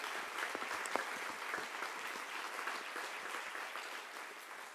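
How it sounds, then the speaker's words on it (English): At a regional education forum in San Antonio, an audience applauds steadily and fairly evenly, a dense wash of clapping that slowly fades toward the end. "Huge round of applause for Alamo colleges."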